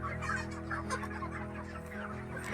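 Chickens cluck repeatedly at close range on a chicken farm, their short calls overlapping against a low, steady hum.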